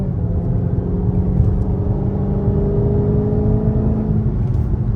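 Low, steady rumble of a Dodge Hellcat cruising from inside the cabin, a faint thin whine riding over the engine and road drone.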